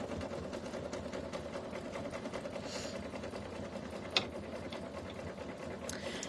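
A sewing machine runs steadily as it stitches a loose zigzag while tacking down fabric for a flower circle coaster, a fast, even mechanical whir with one sharp tick partway through and no voices.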